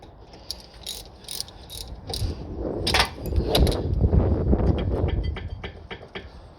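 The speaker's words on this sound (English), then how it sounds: "Bolts back in. Like so. Just going to snug them up." Quick ratchet clicks in short bursts sound close by as bolts are snugged up on the front brake of a Rover 45 1.6, with light mechanical clatter between strokes.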